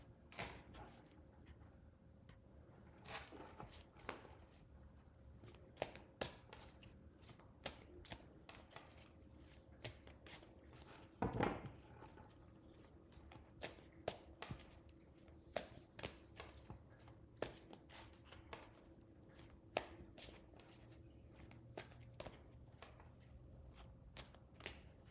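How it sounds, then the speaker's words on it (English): Steady riffling and soft slapping of tarot cards being shuffled close by, repeated in quick bursts over a quiet room with no talking. "I'm just meditating on the cards as I shuffle"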